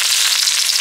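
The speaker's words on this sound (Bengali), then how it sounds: "এবার দিয়ে দিচ্ছি আমি পেঁয়াজ কুচি।" Chopped onion hitting hot oil with asafoetida in a kadai, a steady bright sizzle filling the short moment, close and loud with no voices.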